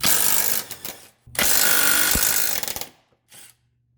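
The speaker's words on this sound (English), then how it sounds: "then you can go ahead and pull those 17 mils off" Loud bursts of ratcheting as 17 mm bolts come off a transmission mount on a 2009 Subaru Forester, two long close runs of rapid clicking with a brief pause between them and a short final burst, no talk.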